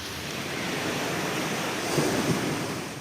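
Rough sea waves on a rain-lashed coast roar in a continuous broad wash, with a heavier surge swelling near the end, steady and fairly loud with wind noise and no talk.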